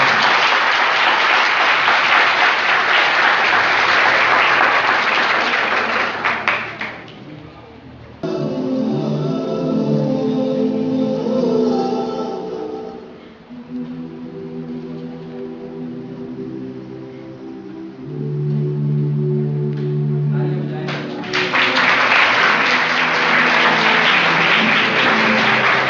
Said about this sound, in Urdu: ایک زوردار تالیاں علامہ الیاس ستار